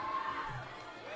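Crowd noise in the Sala San Marco Hall at a kickboxing event, a steady roar of cheering and shouts sustained loudly throughout with no break.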